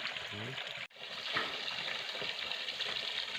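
Cold spring water in the mountains flows and splashes steadily, a continuous broadband rush close by, with someone talking briefly over it at the start.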